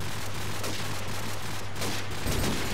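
Rapid bursts of gunfire crackle continuously over a constant low hum in Crossfire, dense and close, with no clear pauses between shots.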